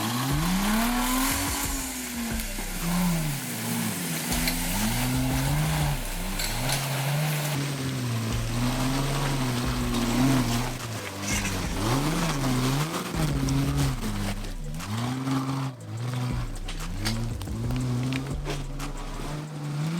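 Jeep engine droning steadily while the vehicle drives in four-wheel drive, with a continuous low rumble and repeated rises and falls in revs throughout.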